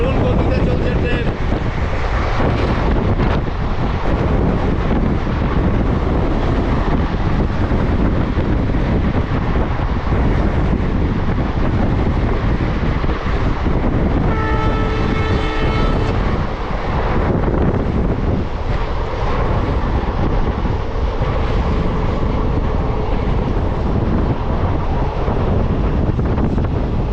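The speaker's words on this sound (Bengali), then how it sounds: "দারুণ গতিতে চলছে ট্রেন।" Haldibari–Bamunhat passenger train running fast through open country, a steady loud broadband roar of wheels and rushing wind across the whole stretch, with a brief tonal horn-like passage midway and no voices.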